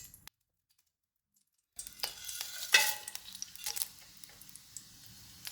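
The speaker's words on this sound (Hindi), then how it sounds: "इनको 30 सेकंड तक फ्राई करेंगे।" Whole spices such as cinnamon, bay leaves, cardamom, cumin, cloves and black peppercorns crackle and sizzle in oil for chicken pulao after a quiet pause, with scattered sharp pops and spoon scrapes, fairly faint and close.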